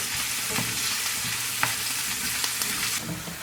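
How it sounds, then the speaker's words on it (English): Garlic and onion fry in a pan, a steady close sizzle with a few clinks and scrapes of stirring throughout. "and the onion, so I'm going to let this fry for a little bit"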